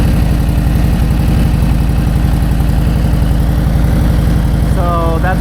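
A Harley-Davidson Milwaukee-Eight Gen 2 motorcycle engine idles close and loud, a steady low throbbing pulse running throughout, with a brief higher tone near the end.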